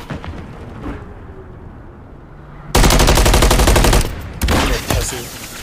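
Loud automatic gunfire from a Call of Duty match, with a quieter stretch of game ambience before sudden dense bursts of rapid shots that briefly ease, then resume, close and heavy.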